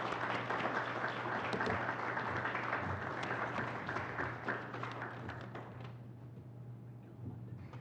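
An audience at an international hybrid teacher-education conference applauds in a sustained burst of clapping that gradually thins and fades toward the end, with a steady low hum beneath.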